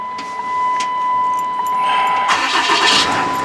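A 2009 Sterling Bullet 4x4 bucket truck with an Altec AT37-G boom starts up: a steady tone, then the starter cranks and the engine catches, rising into a loud idle at close range.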